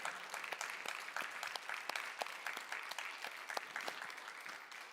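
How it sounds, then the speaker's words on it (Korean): Congregation in a Korean Presbyterian church service clapping together in thanks, a lively, continuous round of hand claps with sharp individual slaps standing out, steady throughout and fairly distant. "우리 감사의 박수 영광을 올려드리겠습니다"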